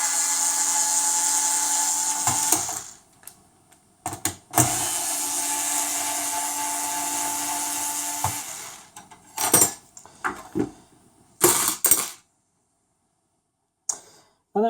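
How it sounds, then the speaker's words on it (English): Electric screwdriver backing out the heatsink clamp screws on a PS4 CUH-12XX console, two long steady whirring runs followed by several short bursts, clicks and metallic taps, close up with quiet gaps. "the screws that secure the heatsink clamp are going to be removed"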